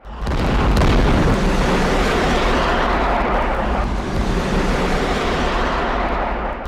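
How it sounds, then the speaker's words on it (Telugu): Bombing in Iran produces a sustained, heavy roaring rumble, loud and broadband, rising at the start and holding steady like continuous blasts and their echoes, with no voices. "ఆ వెనుకే బాంబుల మోతలు."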